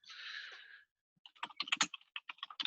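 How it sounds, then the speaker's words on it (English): Someone types on a computer keyboard in a lockdown-era home setting, with a quick irregular burst of close clicking keystrokes following a short hissy noise and a pause; no talking. "Luke, stop typing."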